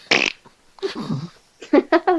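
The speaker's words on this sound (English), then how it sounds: "Oh, so did you just fart?" A short, sputtering fart sounds first, followed by a pause and then a few brief voiced bursts of talk.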